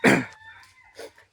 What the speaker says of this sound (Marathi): खोकलो परत चालू झाली